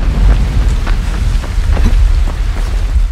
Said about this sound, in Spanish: Joder, ahora se pone a llover.